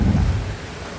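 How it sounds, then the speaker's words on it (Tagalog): A brief, loud rumble of thunder over heavy, steady rain outside during a storm, with the low rumble fading within a second and no voices. "Maulainin, walang tigil ang ulan."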